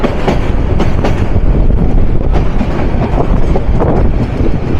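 On the Dhaka–Tongi–Joydebpur line, the Turag Commuter train rolls along loudly, its wheels giving a rhythmic clickety-clack over the rail joints beneath a dense, constant rumble.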